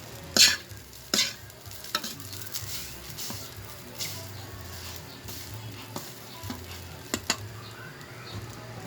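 Garlic fried rice being stir-fried in a pan, a soft background sizzle broken by sharp metallic spatula clanks and scrapes at irregular intervals, close and fairly quiet.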